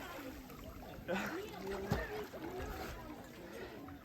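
A splash as someone plunges into water at a flooded quarry, followed by churning and dripping, with a voice speaking briefly over it.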